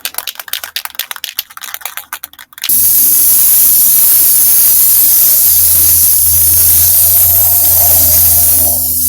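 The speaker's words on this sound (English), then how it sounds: "Shake up my spray paint." A spray can rattles in quick, rapid shakes for a couple of seconds, then a loud, steady hiss of spraying paint runs continuously to the end.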